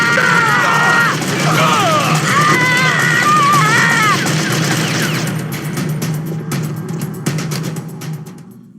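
Gunfire in a Metal Gear Solid cutscene: rapid bursts of shots crackle through the second half, after voices and tense tonal sounds fill the opening seconds.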